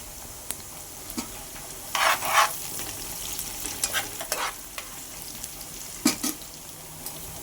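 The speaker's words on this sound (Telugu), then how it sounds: "ఉల్లిపాయలు లైట్గా ఫ్రై అయిన తర్వాత పచ్చిమిర్చి కూడా యాడ్ చేసుకుందాం." Onions, green chillies and curry leaves fry in a pan for a fish curry, giving a low, steady sizzle with a few scattered stirring scrapes and clicks and no talking.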